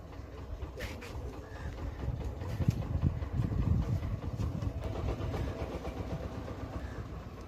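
A fishing trawler engine rumbles low and steady, swelling louder midway then easing, with faint clanks and background voices.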